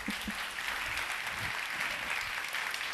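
A conference audience at an F# programming talk claps, a steady, somewhat distant patter of many hands sustained for several seconds without a break.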